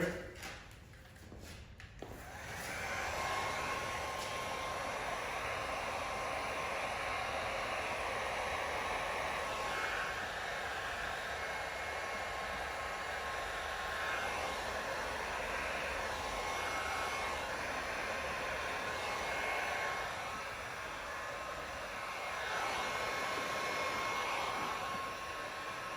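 A heat gun blows a steady, loud stream of hot air for about 24 seconds while vinyl chrome delete trim is formed on the window of a 2019-or-newer GMC Sierra or Chevrolet Silverado crew cab, with no talk.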